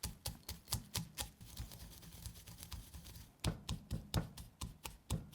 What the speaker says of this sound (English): I've got some roasted peanuts here, and I'm just gonna grind this up until they're sort of mealy, not completely powder